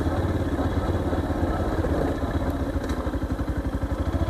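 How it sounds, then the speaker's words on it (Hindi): A Yamaha FZ-X 150cc motorcycle running off-road, its engine giving a close, steady, throbbing putter with a clear pulsing rhythm and a light mechanical clatter on top. "सो यहाँ पे ऑफ रोडिंग हो रही है ऑफ रोड मोटरसाइकिल से"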